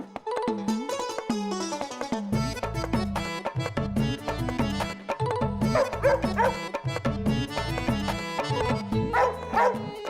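A dog named Jimmy barks and yips repeatedly in a busy indoor scene, the sharp calls rising over a dense bed of music and other sounds without any clear talk.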